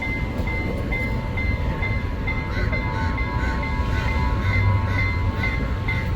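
A work train passing a railway crossing in Sri Lanka rumbles steadily by at moderate distance, its wheels clattering over the rails with a faint mechanical whine carried above them.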